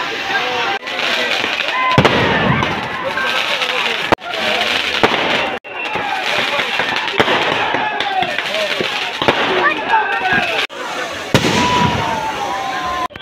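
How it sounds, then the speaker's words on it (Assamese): Firecrackers burst in a rapid crackling string at a Bijoya Dashami Durga puja immersion procession in Patacharkuchi, with loud sharp pops and bangs repeating close by as people talk amid the noise. "বোমা চাওক।"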